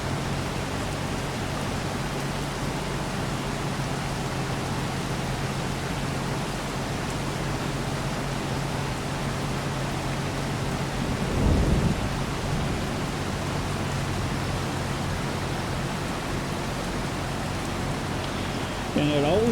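Steady rain hiss with a low thunder rumble near the middle, from a rainstorm during harvesting in Farming Simulator 25 on the 4 Bridges map; the wash of rain continues evenly throughout with no talk.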